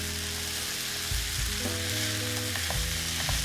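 A mixture of chopped tomatoes, olives and chickpeas cooks in a pan, giving an even, moderate sizzle that runs throughout, with soft stirring movements and a low tonal hum underneath.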